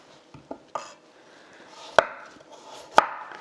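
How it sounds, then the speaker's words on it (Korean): A kitchen knife cuts carrots into slightly thick strips for a Korean jellyfish salad, giving a few sharp, separate strokes on the board with quiet pauses between them. "당근을 썰어 보겠습니다."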